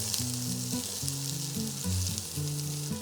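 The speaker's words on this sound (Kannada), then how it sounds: "ಈರುಳ್ಳಿ ಒಂದು ಸ್ವಲ್ಪ ಗೋಲ್ಡನ್ ಬ್ರೌನ್ ಆಗೋವರೆಗೂ ಇದನ್ನು ಫ್ರೈ ಮಾಡ್ಕೊಳ್ಳೋಣ" Sliced onions frying in a pan with garlic for batani gojju, a steady loud sizzle running throughout with no voices.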